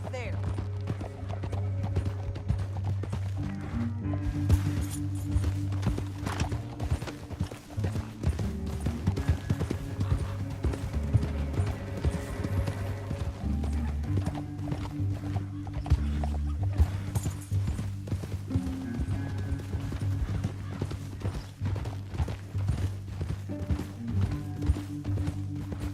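Horse hooves clip-clop on a trail in Red Dead Redemption 2, a steady rhythmic plodding half-buried under a loud orchestral score and voices talking throughout.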